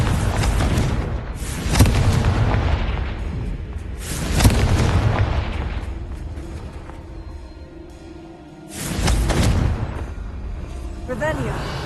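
Confringo spell blasts from Hogwarts Legacy, several loud booming explosions spaced a few seconds apart, each with a sharp attack and rumbling tail, with shouted incantations between them.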